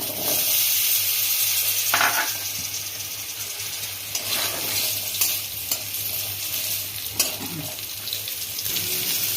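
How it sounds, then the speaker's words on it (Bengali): Steady crackling sizzle of potatoes frying in hot oil left from frying tilapia, with occasional stirring scrapes and clinks; no voices. "ওই তেলে আমি আলুগুলো একটু ভেজে নেব"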